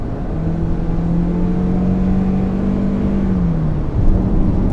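A 2021 Toyota Sienna AWD Hybrid minivan accelerating hard from about 100 km/h, heard from inside as a steady engine drone with a rising and falling whine over loud road and wind roar.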